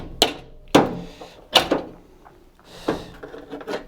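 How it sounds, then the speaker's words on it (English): Several sharp metallic taps and knocks on a metal fan hub of an Indesit or Hotpoint washer dryer, spaced irregularly, close up and fairly loud, with brief rattles after some strikes. "you'll need to give the center a tap, either using a small hammer or"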